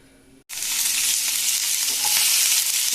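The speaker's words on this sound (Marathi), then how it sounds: "आता पॅन घेऊन त्यात तेल टाकले आणि हे कांदे घातले।" Chopped onions hit hot oil in a pan and sizzle loudly and steadily after a brief quiet start, a dense frying hiss that stays close and even throughout.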